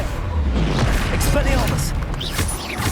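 A Confringo blasting spell in the Hogwarts Legacy video game erupts in a loud, continuous rumbling boom with crackling bursts, dense and close, under overlapping voices in the game's battle.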